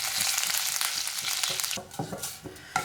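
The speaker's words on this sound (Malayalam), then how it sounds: "ഇനി നമുക്കിതിലേക്ക് കറിവേപ്പില ഇട്ട് കൊടുക്കാം." Curry leaves crackle and sizzle in hot oil during Kerala-style mixture prep, a dense hiss that eases partway through as a few sharper pops and stirring scrapes come through close up.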